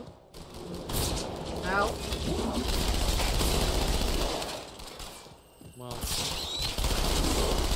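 Sustained gunfire in a Halo 2 firefight fills nearly the whole stretch, loud and dense, with rattling automatic bursts and a brief lull near the end before the shooting resumes. Voices shout and grunt over the shooting.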